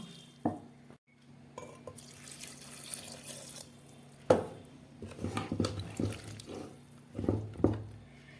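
Water is poured into a pot of salted, turmeric-spiced jackfruit, making intermittent splashing and gurgling bursts alongside clinks of cookware. The sound is fairly soft and close, with quiet gaps between the pours.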